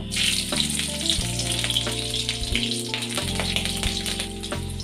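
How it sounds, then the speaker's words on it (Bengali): Green chillies and black cumin frying in hot oil in a pan for a snake gourd dish, giving a loud, continuous close sizzle with crackling bursts and occasional stirring, no speech. "এক থেকে দু মিনিটের মতো ভেজে নেব দিচ্ছি এর মধ্যে চারটে কাঁচা লঙ্কা"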